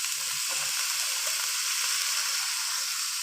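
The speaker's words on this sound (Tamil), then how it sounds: "கேப்சிகம் போட்டுக்கணும்." Capsicum with spring onion frying in a pan beside cooked rice makes a constant hiss of sizzling, fairly faint and even, with a couple of light clanks near the start and no voices.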